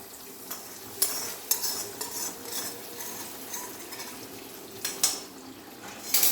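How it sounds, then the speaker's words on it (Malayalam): Ghee-fried raisins and cashews tipped into beetroot payasam, with soft stirring and a few sharp spoon clinks against the pot, fairly quiet and close. "നമുക്കതിലേക്ക് കിസ്മിസും കശുവണ്ടി പരിപ്പും മൂപ്പിച്ചത് നമുക്കിതിലേക്ക് ഇട്ടുകൊടുക്കാം."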